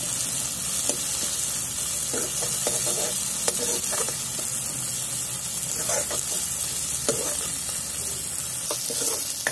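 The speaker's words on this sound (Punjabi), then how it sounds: "ਲਸਣ ਤੇ ਅਦਰਕ ਪਾ ਕੇ ਤੁਸੀਂ ਹਮੇਸ਼ਾ ਇਹਨੂੰ ਲਗਾਤਾਰ ਹਿਲਾਉਣਾ ਆ" Garlic and ginger sizzle steadily in hot oil in a pan while being stirred continuously, with scraping spoon strokes on the pan throughout and no talking.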